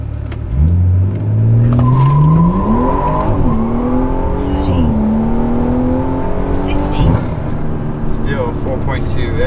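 A car accelerates hard from a standstill on a 0 to 60 run after a transmission flash. The engine note climbs steeply through several gear shifts, loud and sustained, with faint talk mixed in near the end.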